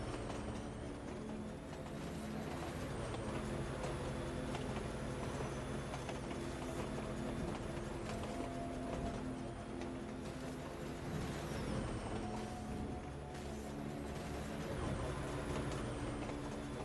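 A train rolls past with a steady, dense rumble of wheels and cars, high metallic squeals and brake hiss rising now and then, heard at a moderate distance without talk.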